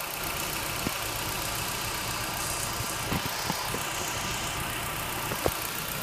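A Nissan Juke with its F16 engine and stock exhaust idles steadily at close range, a continuous low rumble with occasional faint ticks and clicks.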